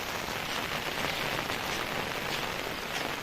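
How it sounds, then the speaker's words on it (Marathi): Heavy monsoon rain pours down in a dense, unbroken hiss, drumming steadily on surfaces close by with no voices. "पावसाने पण खूप जोर केलेला आजपासून"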